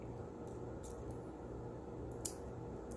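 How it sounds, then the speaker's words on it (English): Wire cutters snip beading wire after a crimp bead is closed: a few faint, sharp clicks over a quiet steady hum, no talking. "use your wire cutters to cut it"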